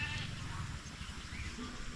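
Goats on a small farm bleat a few times close by, brief wavering calls over faint background noise.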